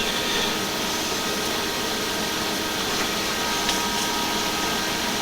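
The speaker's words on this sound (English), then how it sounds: "So it's going to be a very interrupted cut. It's going to be a little bit on the a little bit on the loud side." A metal lathe makes an interrupted cut on a prop shaft during shortening, a loud continuous whirring and grinding drone that holds steady close by with no voices.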